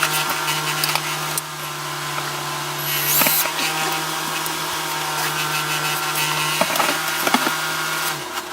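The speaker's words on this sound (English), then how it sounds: "More power tools. In the bedroom." A power tool whirring in an RV bedroom during a remodel of a 1997 Holiday Rambler, a steady close drone with a sustained tone and scattered knocks, no talk.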